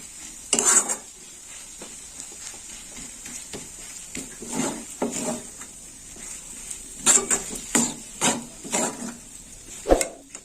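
Green chillies and fresh turmeric sizzle in a pan while a utensil scrapes and knocks against it in irregular stirring strokes, some sharp clatters standing out.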